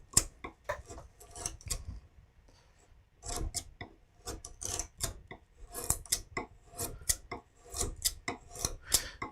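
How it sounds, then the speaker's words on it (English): A skew chisel carving wood, producing quick, crisp scraping and slicing strokes in irregular bursts with short pauses, close and fairly quiet. "I'm using just skew chisel number 1, or it would be number 2 in England"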